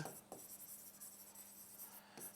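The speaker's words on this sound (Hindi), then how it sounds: "एक एग्जांपल और लिखता हूं यहां पर मैं" Scratchy, continuous strokes of writing on a board during a grammar lesson, quiet and close, with short pauses between strokes and no talking.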